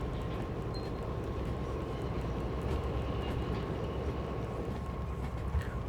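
Continuous low rumble and rolling drone of a tram running on rails in the Derail Valley train game, steady throughout with a faint whine and a small clunk near the end, no talk.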